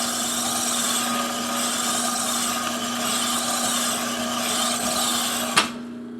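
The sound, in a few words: Sunnen pin-hole grinder honing Tiger Cub cylinder barrel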